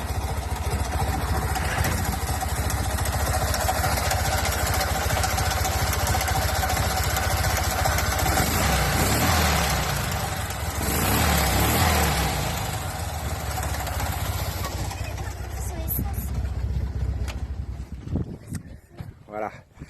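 A small Fiat 500 in Italian police livery idles with a steady, close mechanical rumble that holds evenly for most of the stretch, then thins out and breaks up near the end.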